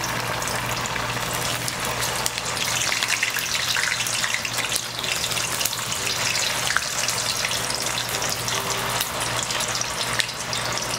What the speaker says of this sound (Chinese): 翻面以后再炸3分钟，一样哦，用筷子拨动豆腐哦，让它受热平均哦